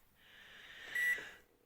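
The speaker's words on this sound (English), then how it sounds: "Santa, the buzzer on the dryer is ringing" A clothes dryer buzzer sounds once as a single sustained electronic buzz lasting over a second, moderately loud and alone, swelling slightly near its end before cutting off.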